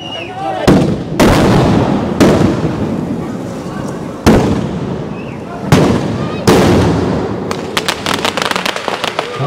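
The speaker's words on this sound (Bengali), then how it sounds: "বাহ, দারুণ একটা আতশবাজি প্রদর্শন।" A Durga Puja fireworks display in Kolkata sends loud, close bangs in a series of sharp bursts, each followed by rolling crackle, ending in a rapid run of popping firecrackers.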